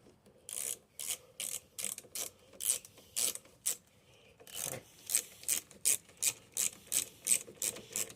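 Socket ratchet working the carburetor mounting bolts on a Briggs & Stratton 6.25 engine with a plastic carburetor, from a Craftsman AWD mower: a steady run of quick, close rasping clicks in short bursts, with no talk.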